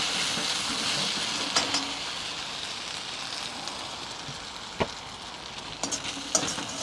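Chicken 65 frying and being stirred in a pan, a steady close sizzle with a few sharp scrapes and clinks of the spoon, no talking.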